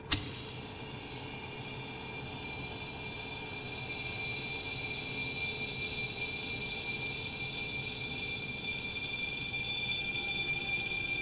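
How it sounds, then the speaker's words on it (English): Electric bell ringing continuously inside a glass bell jar as air is let back in, a thin high buzzing tone that grows steadily louder over the whole stretch, with no talking. "you can listen to the sound that the bell makes as the air returns to the jar"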